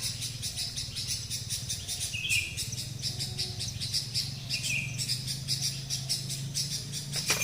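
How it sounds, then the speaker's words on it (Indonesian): A teteli bird calls from a teak forest at night, its short chirps standing out at a moderate distance over a constant dense chorus of crickets and insects, with no voices present. "Teteli guys, itu burung teteli guys."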